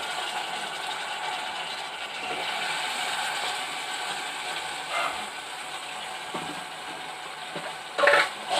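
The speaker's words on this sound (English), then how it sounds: "next put the mutton pieces. So pieces of the mutton, washable mutton pieces in the pan." Washed mutton pieces going into a hot pan set off a continuous frying sizzle with stirring scrapes and a few clattering knocks, including a louder clatter near the end, heard close with no talking.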